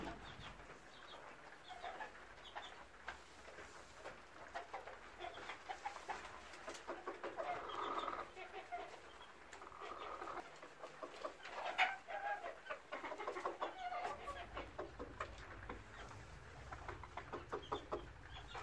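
A rooster and chickens cluck and call amid quiet outdoor ambience in snowy weather, with scattered bird chirps and occasional louder squawks throughout.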